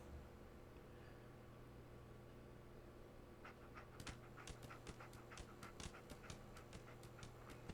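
Dogmeat the dog in Fallout 4 pants in quick, steady breathy bursts that start partway through and continue to the end, faint over a low constant background hum.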